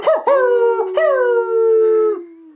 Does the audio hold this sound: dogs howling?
yes